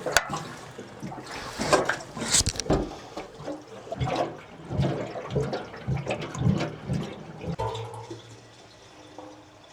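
White diesel pouring from a 5-gallon can into the tank of an agricultural machine, a steady liquid glugging and splashing close by that runs for most of the stretch, with no talk.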